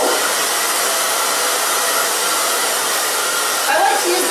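A hair dryer blows hair dry with a steady, loud, close whooshing roar, unbroken and without talk, with a slight shift in tone near the end.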